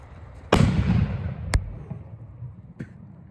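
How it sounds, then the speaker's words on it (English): Zombie shell firework exploding from a hole in the ground, a loud deep boom with a rumbling tail followed by two sharper cracks, outdoors at New Year. "Alright, here goes a zombie shell."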